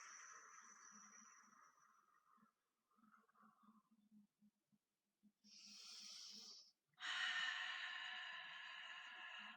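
Forceful breaths pushed out during a pilates exercise, several separate exhales with pauses between them, close and fairly quiet, the last one longer and heavier.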